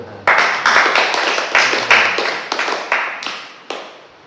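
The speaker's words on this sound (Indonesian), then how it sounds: "Kita tepuk tangan buat Tuhan." Church congregation clapping together in rhythmic bursts, about a dozen sharp onsets with short sustained patter after each, filling the worship space at close range.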